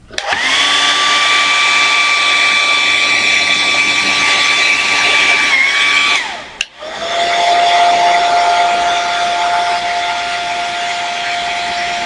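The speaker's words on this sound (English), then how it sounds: "Now you're going to take the hair dryer again." A handheld hair dryer blows steadily and loudly close up with a whining tone, briefly cutting off near the middle, then restarting at a lower setting and running continuously to the end.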